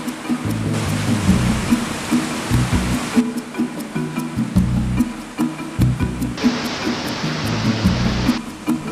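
A waterfall in Biliran province gives a loud, broad roar of rushing water with heavy churning low rumbles and surges throughout, with no voices over it.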